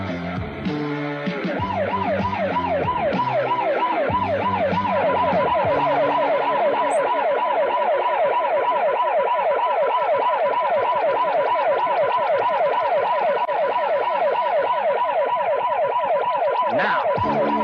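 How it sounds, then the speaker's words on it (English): Emergency siren in a 1970s film scene, a loud continuous wailing yelp cycling rapidly up and down, close and dominant throughout after a brief rougher start, with no talk over it. "Hit the siren."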